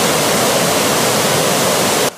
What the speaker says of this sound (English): As you get closer, a roaring sound welcomes you.